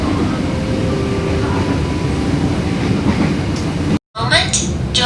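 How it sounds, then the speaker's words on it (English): A Joglosemarketo passenger train running toward Purwokerto station in Indonesia, a steady loud rumble of rolling wheels and carriage noise throughout, briefly cut out near the end before resuming with some higher clatter. "Joglosemarketo train will arrive at Purwokerto station"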